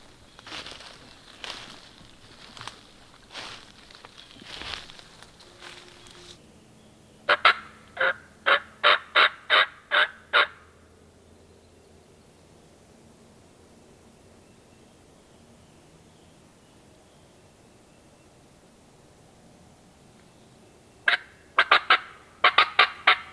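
A wild turkey tom gobbles on public land in Virginia. Several sharp, rapid rattling bursts come in clusters from a moderate distance, with quiet stretches between them in an otherwise still outdoor setting.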